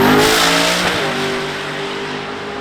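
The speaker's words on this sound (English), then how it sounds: "God, that Camaro's angry, bro." A Camaro launches hard down a drag strip at a Streetcar Takeover event in Charlotte, its engine roaring loud and close with rising revs that fade slightly as the car pulls away.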